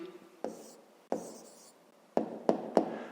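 A pen writes out an answer to a fifth-grade math exercise by hand, giving quiet scratchy strokes with a few sharp taps, close and alone in a silent room.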